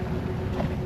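Low steady motor drone and wind rush aboard a sailboat under power with its sails up, moving at about four and a half knots over a swell off Gruissan; a brief faint sound rises near the end, with no talking.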